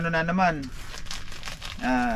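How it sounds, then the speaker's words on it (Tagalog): Plastic packaging is pulled off and crinkled while a back massager is unboxed. A short burst of crackly rustling sits between stretches of nearby talking. "Tinanggal ko na 'yung plastic."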